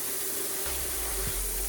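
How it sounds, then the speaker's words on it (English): Water running from a tap into a cooking pan while making a chorizo breakfast burrito, a steady close splashing stream that deepens into a lower gurgle as the pan fills. "let's add some water, not much,"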